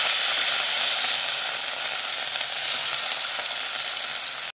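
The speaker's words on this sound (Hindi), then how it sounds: "मैं एक एक करके सारा मछली को मैं ऐसे फ्राई कर देती हूँ" Fish pieces fry in hot oil in a pan, a loud, dense, steady sizzle and hiss that holds for several seconds at close range with no voices.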